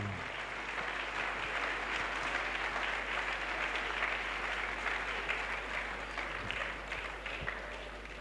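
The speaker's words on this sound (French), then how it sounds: "Let's clap to the Lord as they come." A congregation at an evangelistic crusade claps and applauds continuously, a dense, loud, even wash of many hands that holds steady throughout.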